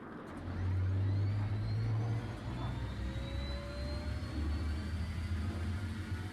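The gas turbine engine of an M1A1 Abrams tank in War Thunder spools up with a low rumble and rising turbine whine. It builds to a strong drone that holds steady, with no voices.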